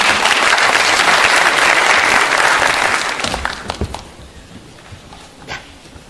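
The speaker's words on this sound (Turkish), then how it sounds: "Samet Torun'u alkışlarınızla sahneye davet ediyoruz." Audience at a startup event clapping to welcome a speaker to the stage, a loud, full burst of applause that tapers into a few scattered claps and then fades to quiet.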